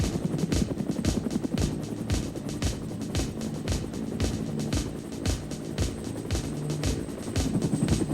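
A helicopter thuds steadily nearby during rope-ladder boarding training, rotor beats pulsing in a fast even rhythm over a constant engine drone.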